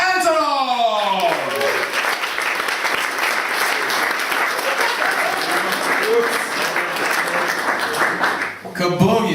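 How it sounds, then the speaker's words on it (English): Loud, dense audience applause greets a comedian taking the stage at a stand-up show in Riga, a steady roar of clapping and cheering that carries on for several seconds before cutting off abruptly near the end. "applause for Mr. Nickolay Antonov"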